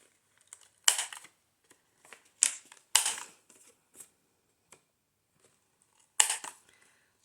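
Paper corners being rounded for a junk journal, heard as a few sharp crisp snaps and crunches with scattered light taps and handling noises in between, close and otherwise quiet.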